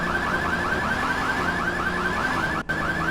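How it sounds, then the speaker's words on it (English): Car alarm blaring in the video game GTA3, a loud repeating electronic whoop cycling rapidly and continuously, with a momentary dropout near the end. "While the alarms keep blaring about."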